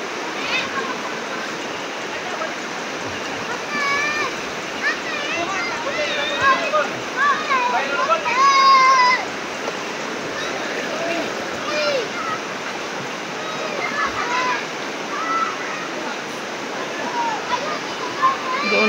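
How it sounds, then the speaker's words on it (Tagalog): A strong stream current rushes steadily in a rainy-morning river where people are swimming, a continuous loud wash of water with people talking and shouting over it throughout. "Doon din po malakas yung agos ng tubig."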